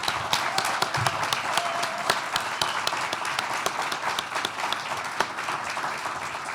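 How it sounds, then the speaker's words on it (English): An audience at a celebration event claps for sponsor partners who stand to be recognized, with steady, moderately loud applause and sharp individual claps standing out across the room. "So would our Kemba partners please stand up and take a round of applause."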